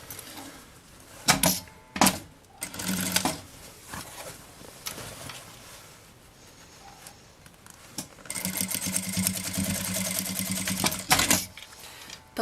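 A sewing machine stitches folded fabric strips for a bag's bias binding, running in short bursts early on and then a longer steady whir near the end, close and moderately loud, with no talking.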